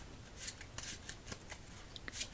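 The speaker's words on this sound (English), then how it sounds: "Typically, I like to change up the way that we shuffle the cards" Playing cards are shuffled in soft, rapid riffling bursts for a solitaire game, close up and quiet, with a gentle papery flutter and no talking.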